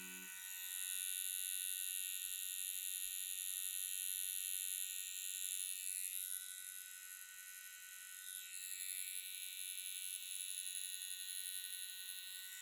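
A tattoo machine buzzes steadily as a needle is pulled down while lining a simple tattoo, a continuous high electric whine that holds for the whole stretch with only slight dips in loudness and no talk.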